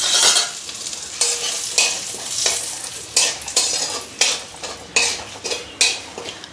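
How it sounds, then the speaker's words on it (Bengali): Whole cumin, two dried red chillies and a bay leaf tempering in hot oil, with bright crackling sizzle and a spoon clinking and scraping the pan in regular, repeated strokes. "এই তেলের মধ্যে আমি গোটা জিরে, এক চামচ মতো গোটা জিরে, দুটো শুকনো লঙ্কা আর একটা তেজপাতা আমি ফোড়ন দিচ্ছি"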